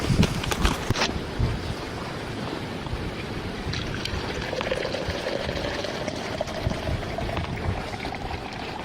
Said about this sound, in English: We're going to go ahead and take the top off and dump off the water.